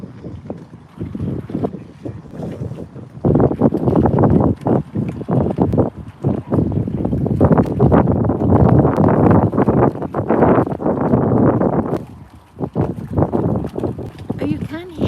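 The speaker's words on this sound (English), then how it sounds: "As it's so windy, I'm not going to keep chatting" Strong wind outdoors beside a busy river at Potter Heigham, rumbling and buffeting the microphone in heavy gusts beneath a person talking steadily throughout.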